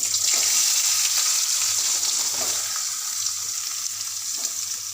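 Onion frying in a pan for dosa palya, a steady loud hiss and sizzle throughout with faint stirring, and no talk.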